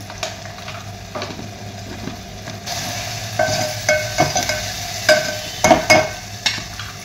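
Onions and tomatoes with turmeric stirred and frying in hot oil for a Marathi amti, a soft steady sizzle with a series of close spatula scrapes and clinks growing more frequent.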